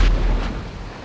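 A heavy explosion blast in the GTA video game, a single loud booming burst with a deep rumbling tail that fades quickly.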